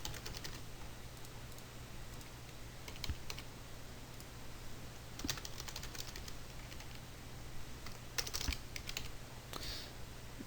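Keyboard typing while entering a password into a League of Legends signup form: soft, irregular key clicks in scattered short bursts over steady low room hum, with faint bird cooing in the background.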